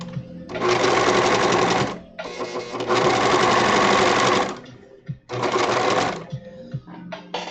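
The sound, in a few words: sewing machine stitching symbiote suit fabric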